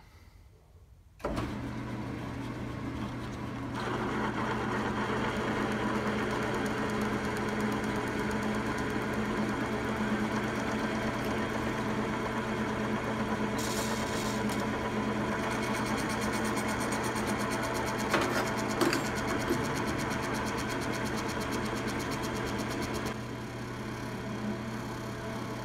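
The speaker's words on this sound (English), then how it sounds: "Slow down the lathe a little bit." A metal lathe turning a tailstock die holder workpiece runs at a reduced speed, a steady close mechanical hum with a tonal drone and light cutting noise, starting after a brief quiet moment and continuing unbroken.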